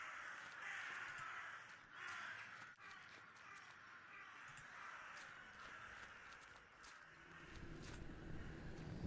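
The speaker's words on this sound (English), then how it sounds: "Okay, there's the birds." Crows caw repeatedly in the video game The Last Door, harsh calls at a moderate distance over a steady windy ambience, no voices.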